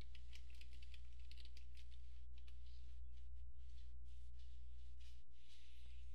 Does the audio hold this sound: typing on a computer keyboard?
yes